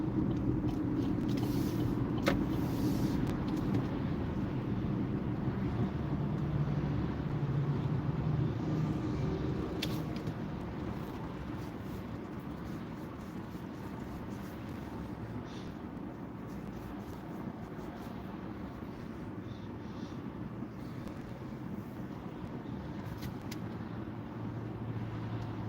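Continuous road traffic rumbles past with cars streaming by, a steady broadband roar that is louder at first and then settles to a lower, even hum.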